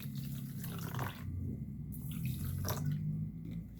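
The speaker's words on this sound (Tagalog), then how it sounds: "lagyan natin ng water" Water is poured into a pot for a vinegar pickle brine, a continuous trickling splash with a brief pause, close and moderately quiet.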